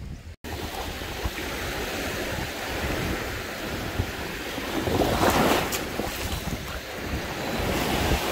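Rough surf on a Bulgarian beach rolls in continuously, a broad roar of breaking waves with heavy wind buffeting the microphone, swelling louder around the middle, no voices.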